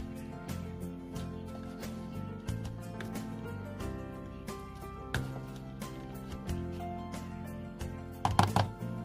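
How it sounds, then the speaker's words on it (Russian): Crushed garlic stirred in a bowl with a utensil, a run of quick, light scraping taps, close and fairly quiet, ending in a brief louder clatter. "Так, чеснок сейчас размешаю."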